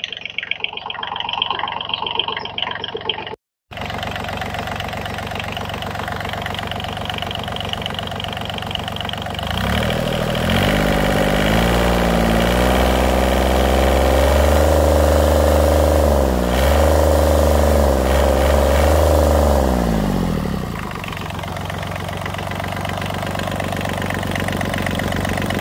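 An Isaki E 383 engine in near-new used condition idles with a steady, close mechanical chug after a brief cut, the throb growing fuller and louder through the middle before easing back.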